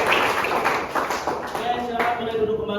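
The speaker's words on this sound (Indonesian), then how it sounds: "Tepuk tangan dong buat kita semua." A group clapping their hands in a room, brisk irregular applause mixed with voices talking and cheering.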